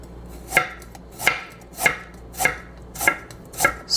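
A knife chopping a small piece of ginger on a board in a home kitchen, with six crisp, evenly spaced strikes about half a second apart, close and clear with no voices.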